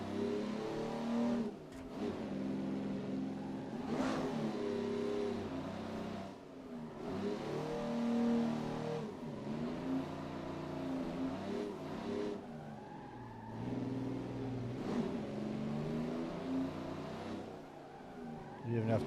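A drift car engine with turbo set to zero in Assetto Corsa, revving repeatedly in rising and falling sweeps through gear changes, steady and close for the whole stretch, with occasional tire skid noise.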